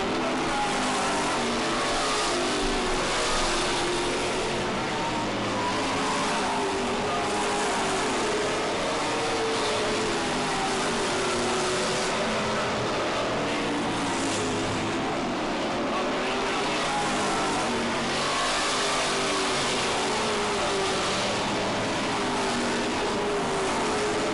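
Race cars on an oval track at a New England short-track race, a continuous blended engine roar rising and falling as the field circulates, heard at a distance under a commentator's voice.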